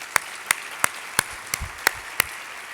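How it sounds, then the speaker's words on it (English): Seven sharp, evenly spaced hand claps ring out over a quiet room at an arts marketing conference opening keynote, a slow, steady rhythm rather than a full crowd ovation. "So let's give them a round of applause."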